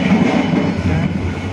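The Jaka Tingkir new-generation economy train runs from Pasar Senen, Jakarta to Lempuyangan, Jogja, with a loud, constant rumble and roar of the carriage on the rails, heard from inside the car.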